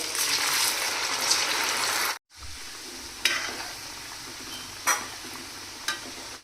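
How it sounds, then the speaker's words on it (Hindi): Rajasthani baflas fry in hot oil with a dense, steady sizzle, then after a brief cut a softer crackle continues with occasional sharper pops and stirring scrapes close by. "यहाँ पे मैंने सारे बाफले फ्राई कर लिए हैं"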